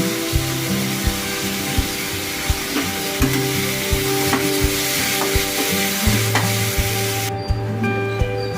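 Tomatoes and onions sizzle and fry with salt in a pan for khichdi, a steady loud crackle broken by regular scrapes and knocks of a stirring spoon, with no talking.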